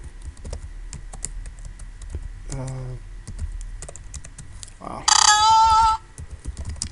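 Computer keyboard typing, many quick light clicks in an uneven run, close and crisp, with a short voice and a brief bleating-like sound cutting in partway.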